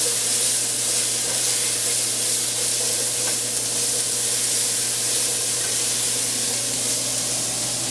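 Onions hiss and crackle steadily in a hot pot beside hard-seared oxtail, a close, continuous sizzle with no pauses and no voices.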